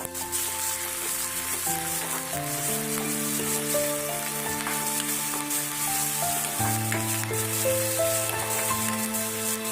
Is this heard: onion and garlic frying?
yes